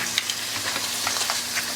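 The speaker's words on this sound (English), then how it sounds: "And we're going to cook our meat" Beef steak frying in olive oil in a pan gives a steady, close sizzle dotted with small crackles and pops, with no talking.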